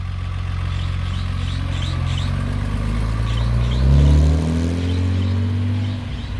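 A Mercedes 230 SL Pagoda drives past. Its engine hums steadily, then swells into a brief rev as the car passes close, and the sound fades away afterward.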